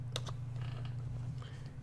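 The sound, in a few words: typing on computer keyboard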